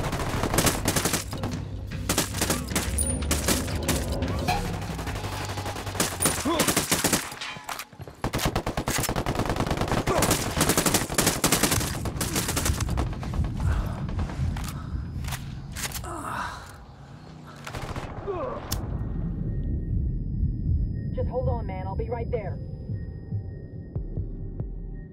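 Sustained automatic gunfire from a squad in the Ghost Recon Wildlands video game rattles on in dense overlapping bursts for most of the stretch, with a brief pause, then thins out into scattered shots and ambient hum.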